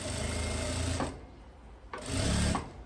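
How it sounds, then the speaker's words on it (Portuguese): A sewing machine runs steady stitching along the side seam of a loose jumpsuit, loud and close, pausing briefly once before whirring on again. "venho fazendo a minha costura aqui"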